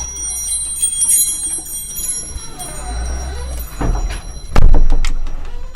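Small tinkling bells ring in a steady shimmer, joined by soft knocks and a louder clatter near the end, in a quiet women's restroom.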